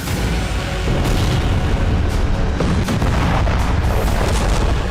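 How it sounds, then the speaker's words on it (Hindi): Bombing in southern Beirut comes through as continuous loud, rumbling blasts and booms from a news report, dense and sustained with repeated heavy impacts throughout. "दक्षिणी बैरूत में इजरायल ने एक के बाद एक लगातार 12 बमबारी की।"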